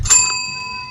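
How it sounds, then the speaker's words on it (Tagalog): A single bell ding in the indie horror game Suit 776, a bright struck tone with a clean ringing decay, close and clear over near silence. "I just ring the bell"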